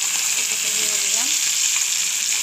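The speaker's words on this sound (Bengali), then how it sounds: "বাটা মাছটা কিছুটা ভাজা হয়ে গেছে, ভালোই ভাজা হয়ে তখন তুলে নিচ্ছি" Bata fish frying in hot oil in a pan gives a steady, loud sizzle with constant crackling and hiss, heard alone without any talking.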